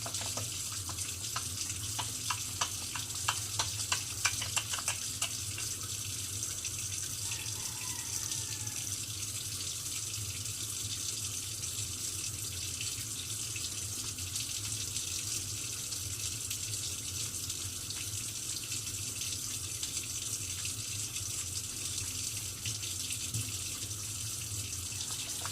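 Running water flows steadily into a sink during a surgical hand scrub with soap, a constant close hiss and splash throughout with faint rubbing, no speech.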